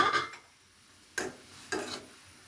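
Low fat noodles are stirred in a pot on the stove, with a few faint scraping swishes: one at the start and two spaced strokes later over quiet background.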